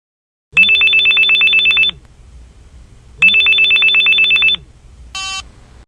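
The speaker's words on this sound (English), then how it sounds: "Listen to Brad's phone call." A telephone rings loud and close with two long electronic trilling bursts separated by a pause, followed by a shorter, fainter chirp, with no talking.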